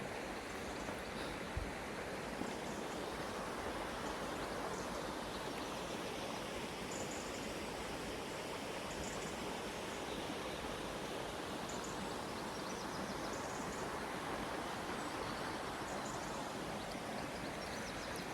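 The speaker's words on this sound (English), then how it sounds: "Birds, river, the odd cow." Steady broadband rush of a flowing river on the Camino Primitivo in Spain fills the scene, constant and close, with faint high bird chirps; no voices.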